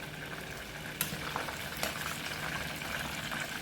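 Soup with chili peppers, seasoning and moringa leaves bubbling in a pot, a steady close simmering and sizzling hiss with a couple of sharp clinks or stirring knocks, no talking.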